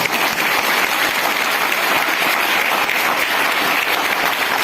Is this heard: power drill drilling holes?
no